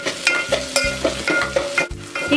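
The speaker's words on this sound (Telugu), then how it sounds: "వీటిని మంచిగా కలుపుకోవాలి. 2 నిమిషాలు మంచిగా వేయించుకోవాలి." Cubed potatoes frying with turmeric in an oil-filled pan while being stirred, steady sizzling broken by repeated scraping and clinking of a spoon against the pan, close and loud with no talk.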